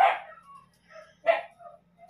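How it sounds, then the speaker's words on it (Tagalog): Household dogs bark indoors in two sharp, separate yips about a second apart, fairly close, with quiet pauses between. "Asensya na kayo sa mga aso namin"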